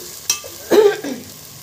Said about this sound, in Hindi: अब ये मसाला अदरक लहसुन का प्याज का भूनते आ गया है